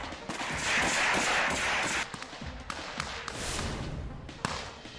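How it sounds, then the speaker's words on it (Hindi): Rapid bursts of assault-rifle fire traded between Ukrainian and Russian troops in Luhansk, loud and dense, with sharp cracks repeating through the clip over a rough battlefield din. "दोनों ओर से जमकर हुई गोलीबारी।"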